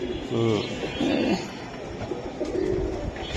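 A silver giribaz racing pigeon hen coos in soft, repeated throaty calls up close, with people talking nearby.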